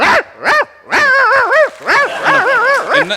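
A man vocally imitates a pet dog greeting its owner, producing a rapid series of yips, whines and bow-wow barks in quick bursts, loud and close, with no other talk.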